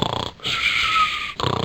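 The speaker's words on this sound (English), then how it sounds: "the number of times that snoring sound plays is the number of hours that you get" A video game plays a snoring sound effect: one long wheezing inhale, tonal and nasal, between rough fluttering snore segments, loud and close with no other sound.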